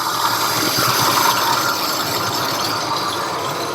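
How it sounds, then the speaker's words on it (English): A steady mechanical whir and rattle from a noisy idler pulley on a running 2000 Ford Expedition 4.6 engine, heard up close, with a faint ticking grind under a broad hiss. "So that pulley there was making a noise"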